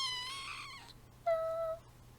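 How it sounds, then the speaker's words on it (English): A young domestic cat meows twice, a drawn-out near call followed after a short pause by a shorter, brighter one, faint against a quiet indoor room. "She's a very conversational little cat."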